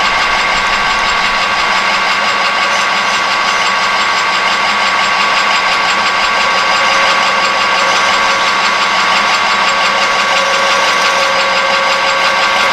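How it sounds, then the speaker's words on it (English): A metal lathe runs with a dense, steady mechanical drone and rattling gear whine, loud and close, continuous without pauses and no voices. "I wish these lathes would shift into gear easy."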